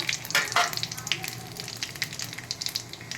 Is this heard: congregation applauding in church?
no